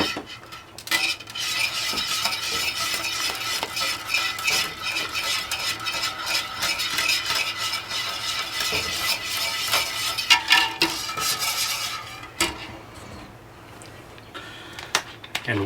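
A utensil stirs chocolate pudding in a pot on the stove as it comes to a boil. Continuous scraping and light metallic clinks run close and steady throughout.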